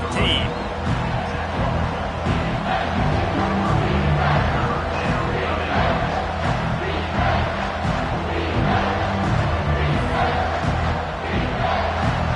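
A roaring stadium crowd at a simulated Alabama at Tennessee college football game in CFB25: loud, sustained cheering and chanting fill the entire stretch, with a dense wash of voices that stays steady throughout.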